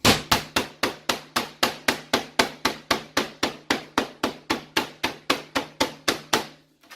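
A piece of meat for schnitzel is pounded flat with about twenty-five sharp, evenly spaced thwacks in quick steady rhythm, close and loud, with no talking.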